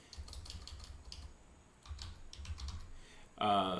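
Fingers typing on a computer keyboard, a short run of soft, close key taps in two bursts, with a brief louder noise at the end.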